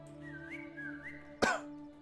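Game character in Unexplored 2 whistling a short rising tune, soft and fairly close, followed by a brief sharp burst like a cough near the end.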